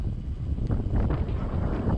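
Strong wind buffets the microphone while cycling toward the Monts d'Ardèche national park in the Massif Central, a steady low roaring rumble with gusty swells throughout, close and loud, with no voices.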